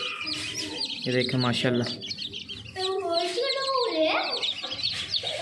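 Golden and silver sebright chicks chirp in rapid, high-pitched peeps close by, with someone talking over the brood throughout.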